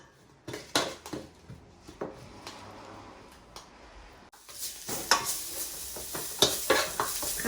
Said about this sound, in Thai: จะผัดสามเกลือให้หอมก่อนนะคะ